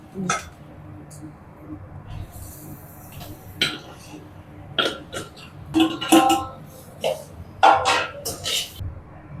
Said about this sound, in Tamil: இப்போ உருளைக்கிழங்க போட்டுக்கலாம்.